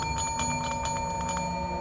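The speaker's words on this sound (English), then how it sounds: "I'm gonna put the bell on this right here" A small hand bell rings in quick, repeated jingling shakes, bright and close, over a steady background tone, inside the old Yorktown Memorial Hospital in Texas.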